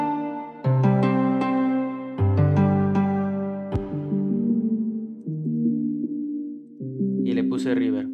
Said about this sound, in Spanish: Empezamos con este arpa.